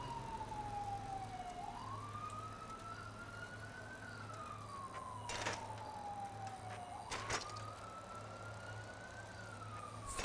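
A police siren in the GTA 5 video game wails in slow rising and falling sweeps at a moderate distance, with a low steady hum underneath and a few sharp bursts of noise.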